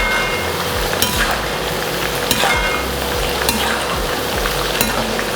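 Split green chillies fry in hot oil for a Kerala covakka roast, a loud steady sizzle with occasional clinks of a spoon stirring the pan, close and continuous.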